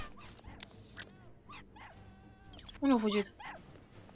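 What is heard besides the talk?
dog barking in video game Hitman Blood Money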